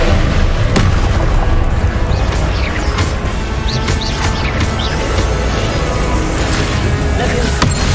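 Loud, dense burst of magical explosion and crashing effects from the Confringo spell in Hogwarts Legacy, with booming impacts and sharp cracks layered over continuous game noise.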